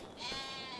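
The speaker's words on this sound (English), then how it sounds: "there's a sheep on the edge of a field" A single short sheep bleat from Farming Simulator 25, the animal standing at the edge of a field, a wavering nasal cry heard alone at moderate distance.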